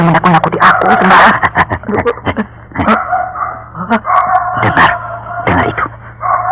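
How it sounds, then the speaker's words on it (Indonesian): A dog howls and yelps in a forest on Mount Merapi, its repeated wavering cries and whimpers loud and close amid other background sounds. "Anjing melolong lagi."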